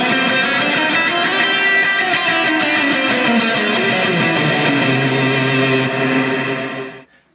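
A distorted electric guitar plays a sliding, descending chromatic note pattern with a heavy sustained tone, then cuts off abruptly at the end.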